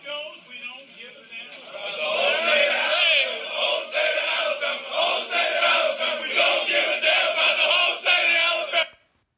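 A crowd chants about Phil Fulmer in unison, loud and sustained, a repetitive sing-song refrain lasting several seconds before cutting off abruptly.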